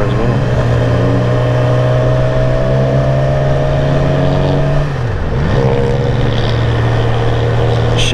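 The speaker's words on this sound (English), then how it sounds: "You can also like probably hear the sound of the bike a little more as well." A motorcycle on a ride, captured by a GoPro Hero 5 Black's microphone: a loud, steady engine drone runs throughout, briefly dipping and recovering in pitch near the middle like a gear change, with no talking.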